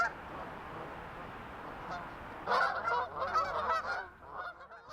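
Canada goose honking in a busy flock, a steady murmur of calls giving way to a louder, closer burst of repeated honks that continues in overlapping clusters.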